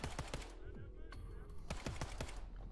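Rapid gunfire in Wolfenstein II, with bursts of sharp automatic shots crackling in a quick uneven rhythm and a few heavier reports at close range throughout.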